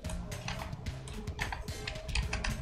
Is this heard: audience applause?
no